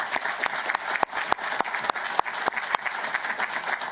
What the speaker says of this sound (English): can you all please cheer as loudly as you can so Heike can hear you?